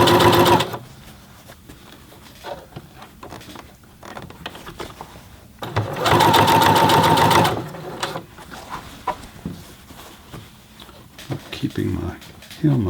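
A Singer Heavy Duty 6800C sewing machine stitches a hem, its needle chattering quietly at first and then surging into a loud, fast run for about a second and a half, with talking between bursts.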